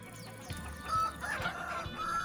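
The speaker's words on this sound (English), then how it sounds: "my cock gets a little excited every now and then." A rooster crowing in the video game Vintage Story, a drawn-out call rising and holding at moderate loudness over steady background ambience, with a few soft clucks.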